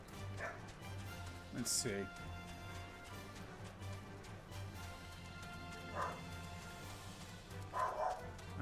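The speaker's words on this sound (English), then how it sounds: "I don't know why Doggo was barking." A dog called Doggo barks several times at a distance during a Final Fantasy XIV session, short yips rising over steady game music while someone speaks briefly.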